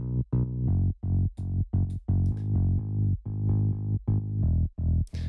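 Synth bass run through a Quadrafuzz multi-band distortion plays a gritty, buzzy riff of short repeated notes with brief gaps between them, loud and up close with no voices.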